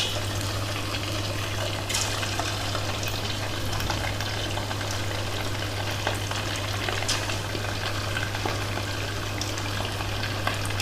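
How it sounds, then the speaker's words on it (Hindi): Marinated chicken pieces sizzle steadily in medium-hot oil, a constant close crackle and hiss with scattered pops and no talking, while making homemade restaurant-style chicken chilli. "फिर इसमें हम ये अपना चिकन फ्राई करेंगे"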